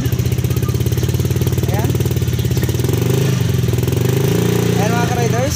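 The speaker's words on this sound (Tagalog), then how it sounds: "in-under natin yung ating motor at kumakarga siya mga ka-riders" A motorcycle engine runs loud and close at a steady, throbbing rev while its battery charges, with a fitted voltmeter. Someone talks over the engine throughout.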